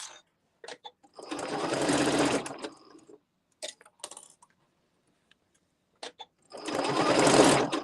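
Two loud, sustained runs of a sewing machine stitching a Luxe Cuddle Fair Isle wrap, separated by a quiet pause with a few soft handling clicks, the second burst starting near the end.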